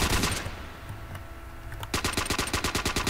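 Gunfire in a Roblox shooter: a few scattered shots, then a fast, loud burst of rapid automatic fire in an even rhythm, close and alone without speech.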